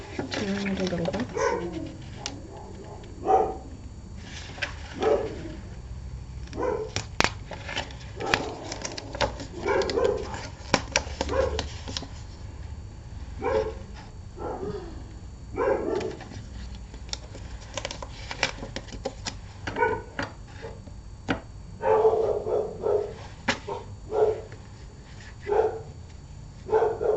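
Dogs bark repeatedly in the distance, short yelps recurring through the whole stretch while a person nearby talks and handles something, with birds calling faintly in the background.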